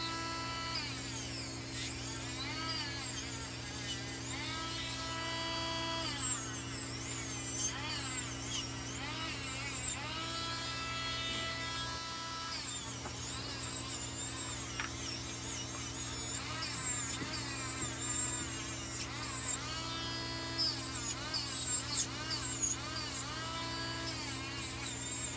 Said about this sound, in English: Right now it's just taking off most of the polishing compound.